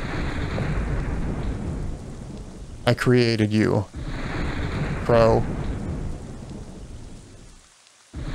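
Steady rain and rumbling thunder from a stormy night in the horror game At Home Alone fill the whole scene, with a raised voice speaking over the downpour twice before the storm briefly cuts to silence.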